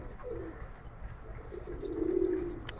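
A full jumper pigeon coos nearby in two drawn-out low phrases, the second longer and stronger, over faint background noise.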